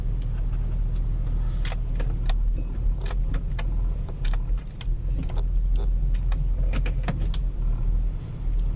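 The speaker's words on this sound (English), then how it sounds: "leave the car running" A BMW idling steadily, a low, constant engine hum with scattered small clicks and handling noises over it, nearby and with no talking.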